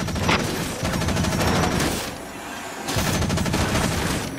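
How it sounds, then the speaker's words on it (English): Machine gun fire from Front Mission Evolved, loud rapid bursts of gunfire with a short pause between them, close and continuous. "fire your machine gun in bursts to avoid overheating"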